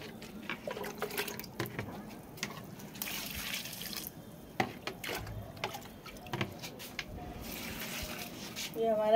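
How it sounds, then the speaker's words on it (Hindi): Onion peel fertilizer water is poured from a mug onto potted tomato plants, giving soft intermittent splashes and trickles at close range among faint handling noises. "ये हमारा टमाटर है, 1-1 मग डालेंगे सब में।"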